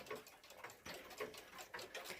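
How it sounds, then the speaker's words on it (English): A Junghans clock with a Werk 274 movement ticks quietly at a steady even pace, faint and close, with soft background hiss around the beats. "this clock is pretty quiet"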